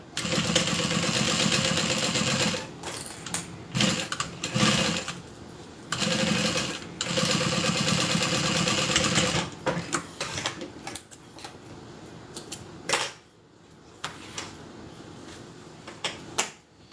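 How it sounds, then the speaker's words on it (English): A sewing machine top stitches a handbag with a steady, fast mechanical whir. It runs in several long stretches with brief pauses between them, close and clear with no talking. "And then I'm gonna go ahead and top stitch."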